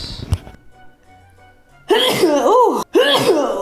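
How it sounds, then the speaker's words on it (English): A short sneeze bursts out near the start, followed by a quiet pause and then loud, strained vocal outbursts broken by a brief gap, close and abrupt. "I need to stop sneezing."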